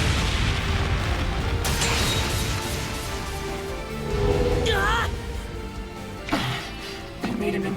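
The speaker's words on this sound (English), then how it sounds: "They made an impromptu flashbang." An improvised flashbang goes off in the video game Trails Beyond the Horizon: a crashing boom among clanking mechanical effects, followed by sharp impacts, with game voices talking over it.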